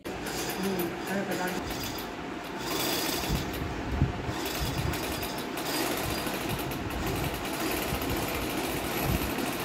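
A sewing machine winds thread onto a bobbin with a fast, continuous mechanical buzz close by, running steadily throughout with a brief louder clack midway.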